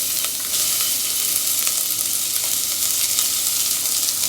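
Onions and green chillies fry in oil in a pan, giving a steady, dense sizzle that crackles evenly throughout with no voices.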